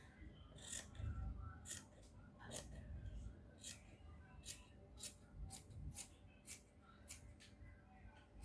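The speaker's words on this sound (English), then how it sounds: "Now I'm going to go ahead and cut this out." Scissors snip through skirt fabric in a steady series of crisp, fairly quiet cuts, each a short bright rasp spaced roughly half a second apart, with a soft low rustle of cloth beneath.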